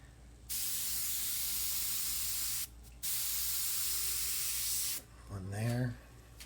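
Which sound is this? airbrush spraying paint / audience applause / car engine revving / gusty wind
airbrush spraying paint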